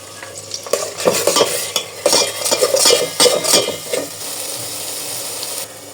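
Duck meat being mixed by hand or spoon with a secret spice blend, salt and lemon, giving wet, squelchy stirring and scraping in irregular bursts, close and moderately loud, fading to a steady soft hiss near the end.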